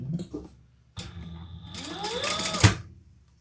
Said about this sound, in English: we're going to top stitch on the top band